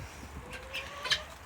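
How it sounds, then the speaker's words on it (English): Broody backyard chickens cluck softly, a few short calls rising near the end over a quiet outdoor background. "I got some broody chickens in there."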